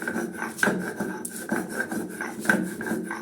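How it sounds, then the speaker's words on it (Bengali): Coriander chutney with garlic cloves is ground by hand, giving close, repeated scraping and rubbing strokes in an uneven rhythm with soft knocks. "এখন এটাকে আমি বেটে নিচ্ছি"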